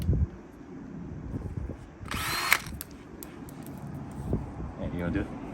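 Power drill spinning a self-tapping screw through an 8mm socket on a stacked drive adapter while fitting an F30 M Sport front lip, with a short high whine mid-clip amid talk and workshop clatter.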